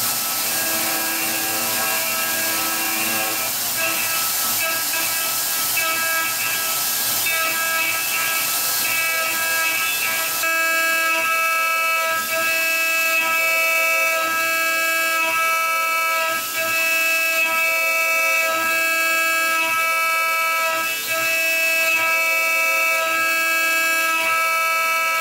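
A CNC 6040 router mills aluminium with a Datron single flute end mill, giving a steady, loud, high-pitched whine with sustained tones that sharpen after a change partway through, continuous and without talk.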